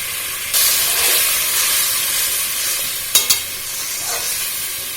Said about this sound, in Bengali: এবার ভালো করে পুরো মশলার সাথে আলুটা কষিয়ে নেওয়া হচ্ছে